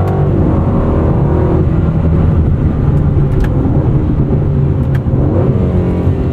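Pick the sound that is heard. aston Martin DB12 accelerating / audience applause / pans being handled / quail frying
aston Martin DB12 accelerating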